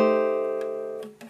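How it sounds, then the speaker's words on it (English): A single dominant 9 chord strummed once on a ukulele, ringing close and clear and slowly decaying over about a second, with faint finger noise near the end. "That's the sound of a dominant 9 chord"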